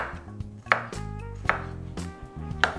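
Eggs being finely diced on a cutting board for a Russian salad, a knife striking the board in a quick series of close, crisp chops with brief pauses between bursts.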